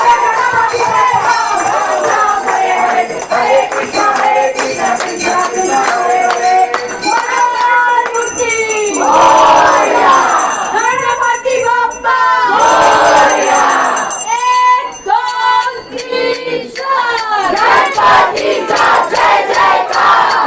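A festive crowd cheers and shouts loudly and continuously during a Ganapati arrival procession with Shivgarjana, dhol, tasha and lezim troupes, voices rising in waves with bright clinking and metallic percussion running throughout.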